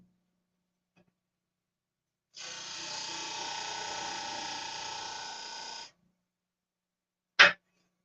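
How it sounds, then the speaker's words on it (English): A disc sander grinds a workpiece in one steady burst of about three and a half seconds, loud and close, followed moments later by a sharp knock, with no talking heard. "We'll sand up to those lines on the disc sander."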